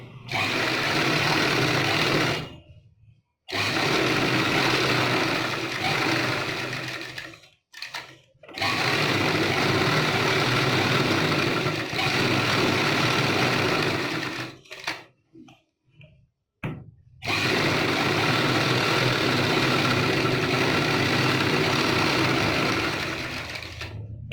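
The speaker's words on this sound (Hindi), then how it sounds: "अब इस हिसाब से हम इसकी दूसरी सिलाई लगाएंगे" A sewing machine stitches the second seam of a back neck design in long, loud, steady bursts, stopping briefly between runs with short pauses and a few clicks, no voices present.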